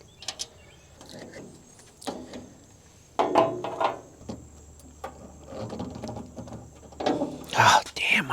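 A screwdriver works tight screws loose on a Weber gas grill under repair, making ratcheting clicks and grinding turns in uneven bursts, close by, with a louder rattling stretch near the end and faint murmured voice at times.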